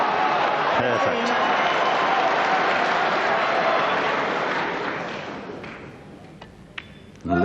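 Snooker crowd at the 1998 Masters Final breaks into rapturous applause, a dense loud clatter of clapping that fades toward the end, with a voice briefly over it.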